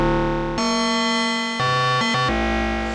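Roland JD-XA synthesizer analog engine using ring modulation on sine waves, producing sustained metallic, clangorous tones that jump between a few different pitches, loud and alone.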